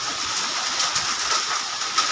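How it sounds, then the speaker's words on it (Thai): Rain falls with wind in a steady, dense outdoor wash, loud and constant with faint gusting swells and no clear voice. "ฝนตกแล้วค่ะพี่น้องโอ้ยลมลมลม"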